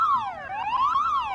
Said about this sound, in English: Alarm, Bill. Scramble, scramble